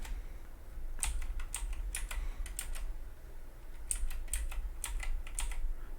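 Keys on a computer keyboard click in short bursts of quick taps during 3D modelling, close and fairly quiet, with pauses between clusters over faint room hiss.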